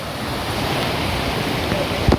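Floodwater pours over a railway track in the rain, a continuous broad rushing wash that stays steady and fairly loud, with a short knock near the end.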